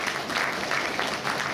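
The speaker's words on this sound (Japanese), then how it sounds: "みんな彼に応援の拍手しようぜ。" Audience applause fills a Turtle Talk show at Tokyo DisneySea, a steady, dense clapping that stays loud and even throughout the short stretch with no talking over it.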